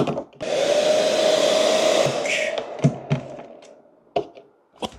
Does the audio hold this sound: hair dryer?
yes